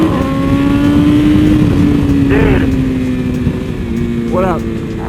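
BMW M1000RR full carbon superbike engine running loud and close, a steady idle-to-mid drone broken by two quick throttle blips that rise and fall, with people talking over it.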